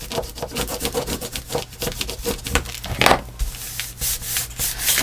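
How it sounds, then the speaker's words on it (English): A bone folder rubs tape down onto a handmade Christmas shaker card, giving repeated scratchy back-and-forth strokes at close range with short pauses between passes. "Really rub that tape down."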